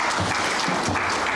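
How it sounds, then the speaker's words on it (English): Steady, dense audience applause for a keynote speaker at a mobile in-app purchases conference, sustained evenly from start to finish with no voices over it. "So a round of applause for Dale."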